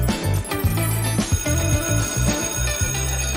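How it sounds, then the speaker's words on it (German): An electric school bell rings loudly and continuously for over three seconds, a steady metallic clangor with no voices over it. "Ah, da ist die Klingel."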